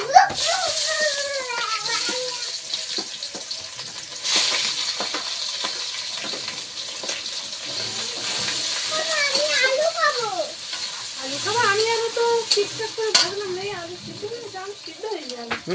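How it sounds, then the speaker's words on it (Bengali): Onion frying in hot oil with a steady, hissing sizzle that runs throughout, mostly beneath someone talking close by. "পেঁয়াজটা একটু লাল লাল করে ভেজে নিয়েছি"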